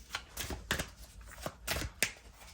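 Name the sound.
shuffling cards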